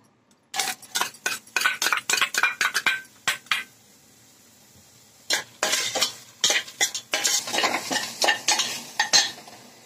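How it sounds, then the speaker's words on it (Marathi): Onion tossed into a Healux cookware pan for chicken biryani and stirred, with rapid bursts of metal spatula scraping and clanking over a light sizzle, a short pause, then another run of brisk strokes. "कांदा टाकते यात."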